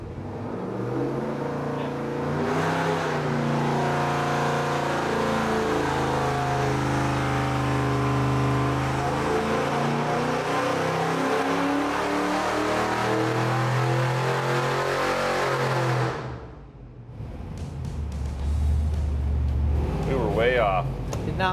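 An LS V8 in a 1968 Chevrolet C10 on a chassis dyno, pulled from 3,000 to 5,500 RPM: a loud, steadily rising engine roar over about fifteen seconds, then an abrupt drop to a lower idle with a brief blip.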